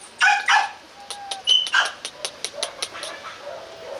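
Young Rottweiler puppies, about twenty days old, play together, giving a burst of yips and whimpers followed by a quick series of short squeaky barks and growls, close by, with faint talk in the background.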